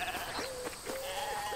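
Sheep in the wildlife adventure game Alba bleat in a few short, thin calls, fairly faint and close together, with no talk over them.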